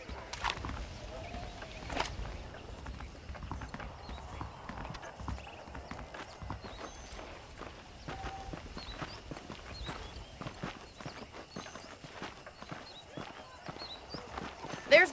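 Horse hooves clip-clop steadily while riding in the Red Dead Redemption video game, a continuous moderate trotting rhythm with faint ambient sounds and occasional speech over it.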